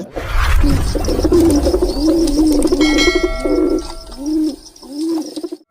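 Pigeons coo repeatedly in a loft, close and loud, several rolling low coos overlapping with a faint chirp and background rustle, no speech.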